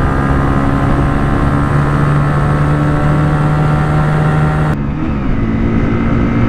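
A Bajaj Platina 110 ABS and a Hero Splendor Plus Xtec racing, their small single-cylinder engines droning loud and steady at speed, with a tone shift near the end as gears change.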